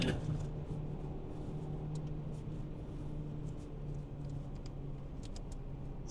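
A 2012 Renault Clio with a 1.2 petrol engine drives in third gear at around 120, a steady muffled cabin rumble of engine and road noise with faint ticks and rattles on top.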